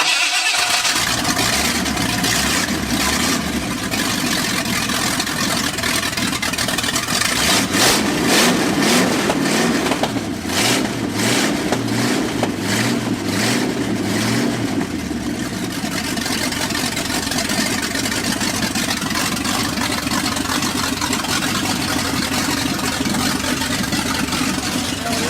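A boat engine swapped into a 1979 Ford F150 pickup cranks, catches and revs, then settles into a loud, rough idle with pulsing firing close to the microphone.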